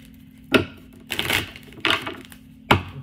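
A Kipper card deck is shuffled by hand in several quick riffling bursts, each a crisp papery flutter with sharp taps between them, close and fairly loud with no talking.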